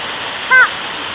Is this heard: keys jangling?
no